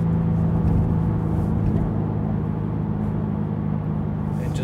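A 2021+ BMW G80 M3 Competition with a Fabspeed full turbo-back exhaust idles in regular mode from inside the car, giving a low, steady, subdued engine drone and hum.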